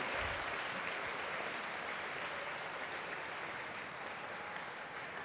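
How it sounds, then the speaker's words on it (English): Audience at an eighth grade middle school awards ceremony applauds students, a dense steady wash of clapping from a crowd that continues evenly and fairly loud for several seconds. "applause for all their hard work"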